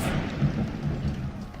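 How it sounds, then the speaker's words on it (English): Rumbling thunder from a lightning strike in an audio drama, a low steady roar sustained throughout with no voices over it. "The lightning hit him instead."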